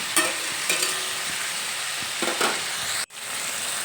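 Vegetables sizzle steadily in a pan with ginger and garlic paste, a constant frying hiss broken by a few light stirring scrapes and brief pauses, with no voices.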